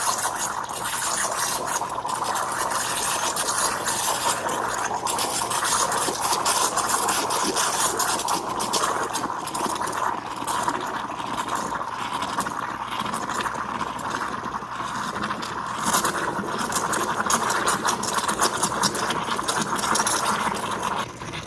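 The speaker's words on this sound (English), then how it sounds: "we're gonna turn this on and start frothing this milk here" Joy Pebble 20-bar espresso machine steam wand frothing milk, a steady hissing, gurgling roar with scratchy bubbling texture throughout, close and fairly loud, with no voices.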